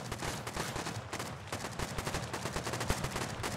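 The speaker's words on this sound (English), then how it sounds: "you guys are shooting me" Gunfire in the video game Rust during a raid, a dense continuous barrage of rapid overlapping shots and automatic bursts, loud and sustained throughout with no pauses.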